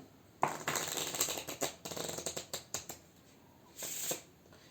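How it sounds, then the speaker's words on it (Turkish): A deck of playing cards being shuffled up close, a quick run of crisp riffling flutters, a pause, then another short riffle; no voices. "Bunun için bir deste iskambil kartı kullanıyoruz. Şöyle bir karıştıralım desteği."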